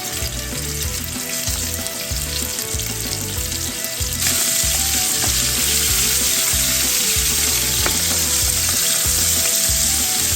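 Lamb bones for a Guinness stew sear in a hot pan with a loud, steady sizzle that runs the whole time and grows brighter and stronger about halfway through, heard alone with no talking.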